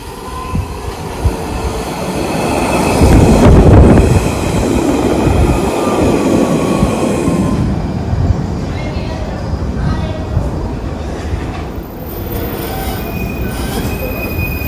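A train passes close by in pouring rain, its wheels squealing and rumbling loudly with a broad roar that swells early and then settles into a steadier clatter and hiss for the rest of the passage.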